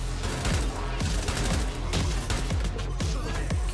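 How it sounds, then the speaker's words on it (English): Suppressed gunfire in Assassin's Creed Valhalla, a dense run of muffled shots in quick succession over a continuous loud game soundscape, with no pauses across the stretch. "this is just a gun with a silencer"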